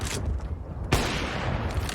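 Gunfire in the Counter-Strike match on Inferno, a continuous dense rattle of shots with one sharp loud crack standing out midway.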